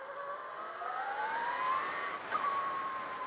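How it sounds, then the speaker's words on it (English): Brammo Empulse TT electric motorcycle regenerating under braking, a rising electric whine that climbs steadily in pitch over a few seconds, close and moderate, with steady road and wind noise beneath. "it kind of makes a different sound when it regens"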